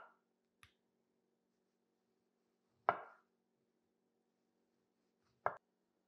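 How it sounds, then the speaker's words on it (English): A knife cuts through an orange in a few quiet, separate strokes: a faint tap, then two sharper slicing cuts a few seconds apart against near silence. "you can go ahead and make really nice slices of oranges"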